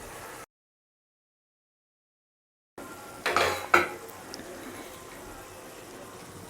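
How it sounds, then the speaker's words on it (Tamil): After a silent gap, pre-fried paneer cubes go into a pan of masala gravy with a short burst of spoon and pan clatter and stirring, followed by a soft, low simmer. "நம்ம இது கூட இப்போ பன்னீரை சேர்த்துக்க போகிறோம்."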